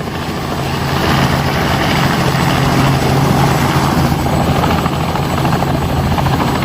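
A loud, steady helicopter engine drone with rotor thrum from a tour helicopter in South Dakota, continuous and close throughout, no voices.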